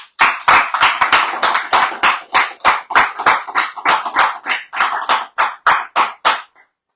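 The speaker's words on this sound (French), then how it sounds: "Et par vos applaudissements, vous les encouragez." Rhythmic, evenly spaced claps ring out close and loud, about twenty sharp beats in steady time, as if one person or a small group claps along, then they stop abruptly.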